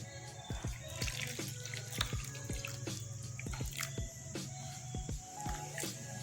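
Water trickles and drips onto squeezed grated coconut, splashing steadily into a bowl as thin coconut milk is made, with a continuous faucet-like flow and scattered clicks and knocks throughout.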